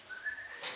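A voice imitates whistling with one brief, thin rising whistle, close and fairly quiet, in a church class setting.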